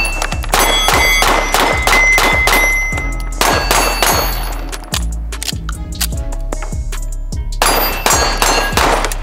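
A Springfield Prodigy 1911 DS pistol fired in a rapid string of sharp, loud reports with ringing metallic clangs, a brief pause midway, then another burst of shots.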